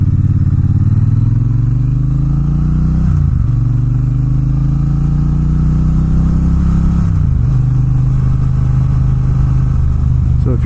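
A Triumph Bonneville T120 motorcycle being ridden, its steady low engine drone holding close and loud for the whole stretch, with two brief dips where the revs shift between gears.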